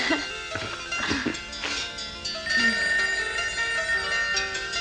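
A telephone rings repeatedly in a room under a music score, with brief bursts of louder activity early on and a steady tonal bed throughout.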